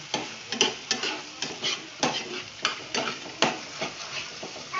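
Spice masala for egg curry frying in oil while being stirred, a close steady sizzle broken by regular scraping strokes of a spoon against the pan, no talking.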